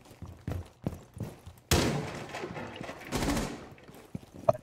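Gunshots in Rainbow Six Siege as cameras get shot out: a few sharp separate shots first, then a heavier loud burst of gunfire with rapid follow-up shots and a final single crack.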